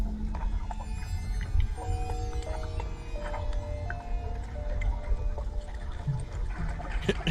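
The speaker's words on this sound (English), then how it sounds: "It was a dolphin, probably." Dolphin calls played back through a speaker: a string of high, sliding whistles and squeaks over a faint watery gurgle, fairly quiet, with no talking.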